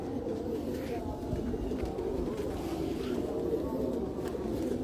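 A Rampuri pigeon, black on the forehead, coos in low repeated throaty calls close by, a steady murmuring roll under a faint background hiss.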